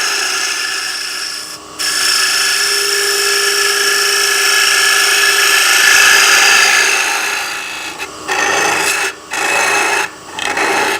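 A woodturning scraper cuts into a wooden box spinning on a lathe, giving a loud, continuous rasping scrape that swells and fades, then breaks into short bursts separated by brief pauses toward the end.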